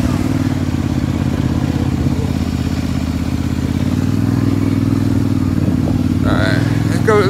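A Polaris Sportsman 850 ATV rides through mud in two-wheel drive, its loud steady engine drone filling the whole stretch, with a brief voice near the end.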